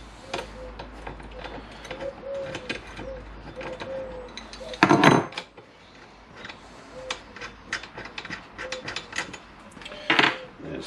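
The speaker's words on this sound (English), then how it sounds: "And I've got a breaker bar because this will be tight." A breaker bar turns a bolt on a Yamaha R1 4XV motorcycle foot peg, giving scattered close clicks and metallic ticks with a sharp louder crack near the middle and another toward the end.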